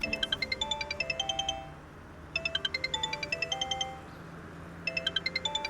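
A mobile phone plays its ringtone, a bright repeating melodic jingle that sounds in three bursts with short pauses between them, fairly close and with no talk over it.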